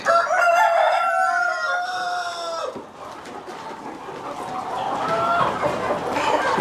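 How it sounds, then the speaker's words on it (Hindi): A rooster crows loudly and close among egg-laying hens on a poultry farm, the long call breaking off into busy clucking and murmuring from the flock. "ये सारी एग लेइंग हेन्स है, सब अंडे देती हैं ये"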